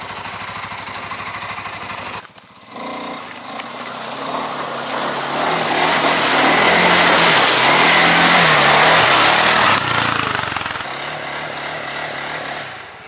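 CFMOTO CFORCE 600 EPS ATV engine revving hard while riding through a forest, the roar climbing and holding loud for several seconds after a brief dip, with no talk over it.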